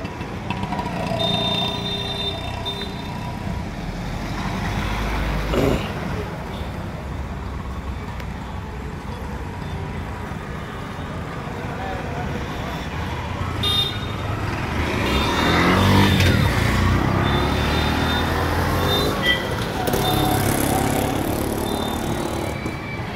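Cars and motorbikes roll in and idle near the platform of the Tiruvannamalai railway station, a continuous traffic rumble with engines swelling and passing at moderate distance and a louder vehicle surge midway.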